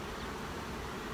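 A dense, steady buzz of many honeybees working in a hive at close range, continuous and unbroken throughout.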